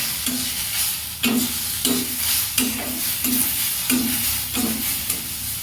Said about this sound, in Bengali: আমি এই উঁচিটাকে তুলে দেবো এখন নাড়িয়ে নেওয়ার পর তারপরে ডালটাকে আমি ঢেলে দেবো